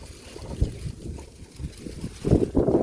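Hot outdoor wind buffets and rumbles in low gusts around potted succulents, swelling louder toward the end, with a rough, blustery texture and no talking.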